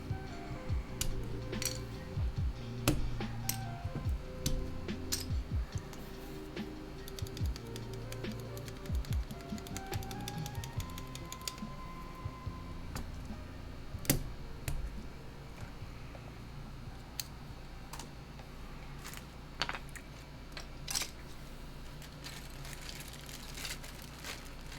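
Custom mechanical keyboards, a TX1800 and a Leaf60, typed on at close range, with a steady stream of crisp clacky keystrokes and sharp spacebar thocks running the whole time, with no talking.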